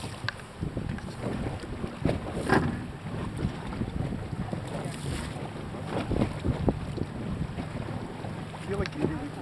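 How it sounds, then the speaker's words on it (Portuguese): Wind buffets a small boat at sea off Terceira in the Azores, steady rushing gusts hitting the microphone along with low engine and hull rumble, while faint voices come and go. "É o vento, é que nos está a empurrar para cima."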